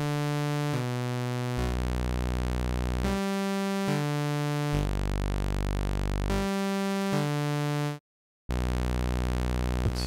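A sawtooth oscillator on the Rob Papen Predator synth holds buzzy, harmonically rich notes that shift in pitch every second or two, steady and loud, with one brief dropout near the end.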